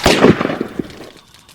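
Gunfire in an audio drama, a loud burst of several rapid cracks and pops that trails off into scattered quieter reports over about a second.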